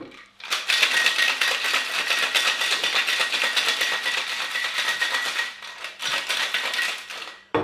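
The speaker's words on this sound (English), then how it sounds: "give it a good shake" Ice rattles hard inside a cocktail shaker holding a whiskey martini, a dense rapid shaking close up that runs for several seconds, pauses briefly, then resumes.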